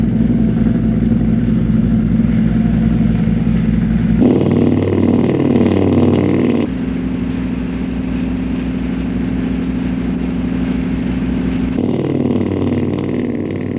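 A Lauster MF60 diesel-electric measuring vehicle, driven by two diesel engines, accelerates hard toward its 70 km/h top speed, a loud continuous engine drone rising and shifting pitch in distinct steps, with no voices.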